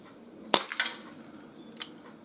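Outdoor shots from a Gletcher NGT RF air revolver fired at a can: one sharp crack, a quick cluster of softer clicks and rattles, then a fainter pop, all nearby in quiet surroundings.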